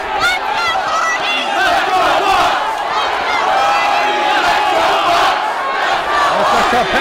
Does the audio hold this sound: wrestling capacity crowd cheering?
yes